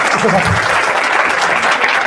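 A seminar audience breaks into loud, dense applause, continuous clapping filling the room from start to finish, with some voices mixed in.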